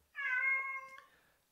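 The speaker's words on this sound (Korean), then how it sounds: "집에서 키우는 고양이가 또 우네요." A pet cat meows once at home, a single clear drawn-out meow that rises, holds and fades in a quiet room.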